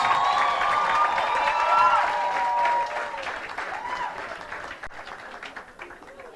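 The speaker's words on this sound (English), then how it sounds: "let's do that special applause" An audience at a Nairobi summer school on climate justice applauds with dense clapping for about three seconds, then thins and fades out, with voices mixed in.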